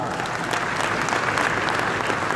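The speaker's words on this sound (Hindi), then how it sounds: "मुकुंद चतुर्वेदी सर के लिए एक जोरदार ताली पाऊंगा।" Loud, dense applause fills the room at an anniversary celebration in Raipur, Chhattisgarh, with a steady wash of clapping and no gaps.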